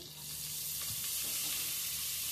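Green chili and chopped onions sizzle in a hot pan, a steady bright hiss of frying with faint stirring clicks, close and continuous with no talking.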